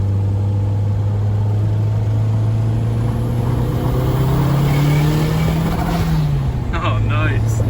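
Engine of a 1991 Toyota MR2 pulling under acceleration from inside the car, a steady rising drone that climbs in pitch, then drops at a shift before building again.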